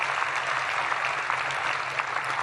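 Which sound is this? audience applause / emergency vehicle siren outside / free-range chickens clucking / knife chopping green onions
audience applause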